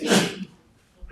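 A single short, sharp sneeze bursts out at the very start, close by in a meeting room, then fades quickly into quiet.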